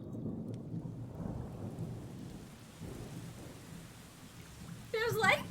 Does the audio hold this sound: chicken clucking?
no